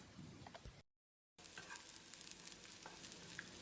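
Shallots sizzle and crackle in a tablespoon of oil in a pan while being stirred, with a soft scrape early on, a brief dropout of sound, then a close, quiet, continuous frying hiss.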